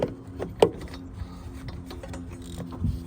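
Wrench turning an engine's crankshaft through the alternator pulley and belt on an engine sitting unused for 20 years, with a fan clutch fitted; close mechanical clicks and ratcheting clunks, one sharper knock early, no talking.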